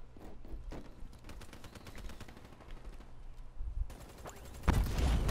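Rapid bursts of Basilisk gunfire ring out in a video game, a quick run of sharp shots followed by a heavier, louder blast near the end.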